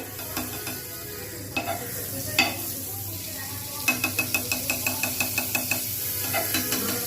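Butter sizzles in a frying pan on a gas stove while a sandwich is being made, a soft steady hiss under a run of quick, regular metallic clicks and taps partway through.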